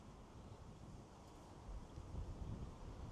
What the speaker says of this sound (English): That wind now is it's blowing me up the street here.